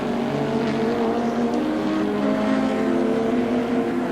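Ford Sierra touring race car, the ANZ-sponsored number 9, running at Amaroo Park Raceway in Sydney in 1988; a steady, loud engine drone with sustained revving tones, no speech over it.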